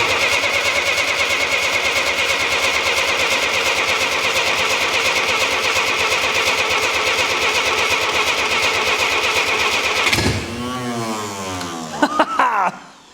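An old Dodge engine cranks steadily for about ten seconds, then catches with a sudden change in pitch before revving unevenly and cutting out, heard up close and loud.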